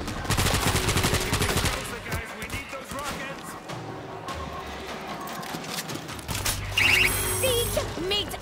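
Auto turret machine gun firing in the World War Z Aftermath video game, Marseille level; rapid bursts of automatic gunfire mixed with game effects and shouted character voices over the shooting.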